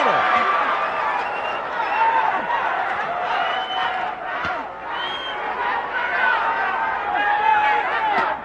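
A roaring crowd at a Hawaii MMA fight cheers and yells steadily throughout, with excited shouts rising over the dense, continuous noise as two fighters slug it out in the corner.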